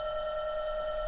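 A phone ringing with a steady electronic tone, loud and close, filling the moment alone without any voices.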